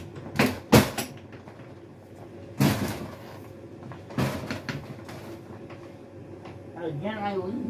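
A door is handled as a person heads outside, with several sharp clunks and rattles spaced out, then scraping and shuffling movement, and a voice speaking briefly near the end.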